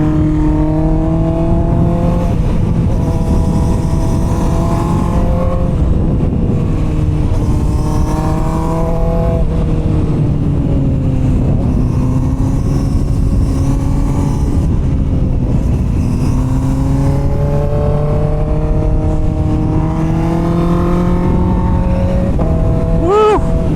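A Honda CBR650R motorcycle engine hums steadily at low RPM while riding winding roads, a loud continuous droning tone that rises and falls gently with throttle changes, with constant wind rush throughout.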